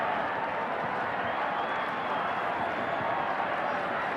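A large stadium crowd at a 1991 rugby league fifth-place playoff between Western Suburbs and Canterbury applauds steadily, a dense, sustained roar of clapping and cheering that fills the whole stretch without a break.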